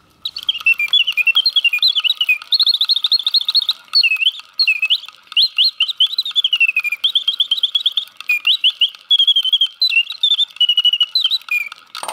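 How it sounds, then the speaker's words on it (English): Antique Antoine Salmon singing bird box automaton with guilloche and enamel case, its mechanical bird warbling a bright, high trilling song of rapid chirps and sweeping whistles, near and clear, running continuously with brief pauses and no talking. "Very sweet bird song and excellent animation overall."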